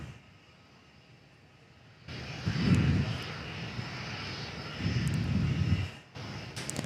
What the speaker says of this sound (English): There's Qatar executive taxiing into the bay.